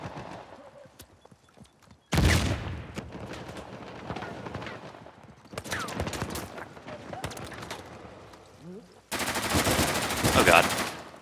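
Heavy weapons fire in an Uncharted 4 multiplayer match, bursts of rapid machine-gun shots and booming hits in separate loud bursts with quieter gaps, a player talking in between.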